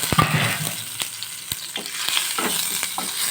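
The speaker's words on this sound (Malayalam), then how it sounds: "ഇതാ എൻ്റെ തവിയിൽ വെള്ളമുണ്ടായത് കൊണ്ട് ദാ ചെറിയെന്ന് സൗണ്ട് വയ്ക്കുന്നുണ്ട്" Chopped garlic dropped into hot oil, with water from a ladle making it spit; a sharp close crackle and sizzle with several loud pops, continuous and without talk.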